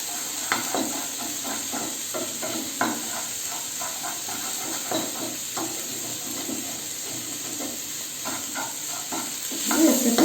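Chopped egg is stirred into a pot of hot chicken soup, giving a constant steamy hiss with repeated soft spoon knocks and scrapes, close and steady, with a slightly louder stir near the end and no talking.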